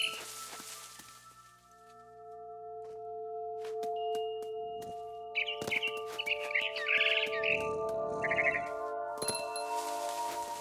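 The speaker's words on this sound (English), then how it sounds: "Then I heard chirping outside my window. It was a barn swallow going back to her nest." Barn swallow in the game What Remains of Edith Finch, giving bright twittering chirps in short bursts over sustained musical tones and soft chimes.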